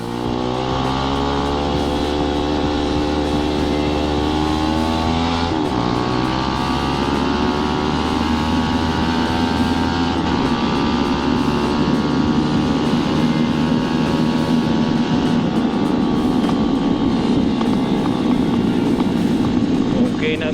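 A Kawasaki GPR250 motorcycle with an SC1-R muffler, tuned with a 115 main jet, idles and runs steadily and loudly up close, its raspy two-stroke-style exhaust note holding with small throttle swells throughout.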